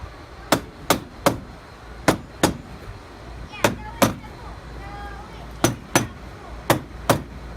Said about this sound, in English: we're going to take our rubber mallet and tap the band around the filter